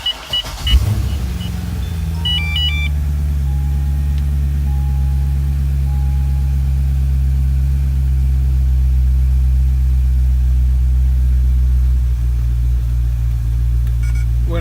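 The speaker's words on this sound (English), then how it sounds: "Let's start the car up now." A Corvette C6 Z06 V8 fires up with a brief sharp burst, then settles into a steady, loud, deep idle through its NPP exhaust in the quiet position, with a short whirring motor sound early on.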